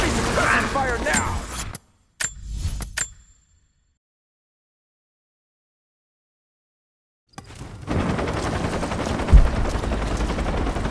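Machine gun fire in the Rise of the Tomb Raider video game, short sharp bursts of rapid shots near the start, then silence, then a dense noisy game ambience with voices.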